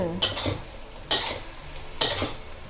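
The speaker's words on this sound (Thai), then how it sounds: "ใส่ต้นหอมลงไปค่ะ ผัดอีกครั้งให้เข้ากัน" Beef balls being stir-fried in a pan with chillies, onion and spring onion, three bursts of spatula scraping and tossing over a steady sizzle, close up with no talking.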